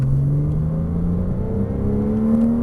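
A Porsche Cayman S engine revs steadily upward as it accelerates hard, a loud, continuous rising drone with no pauses.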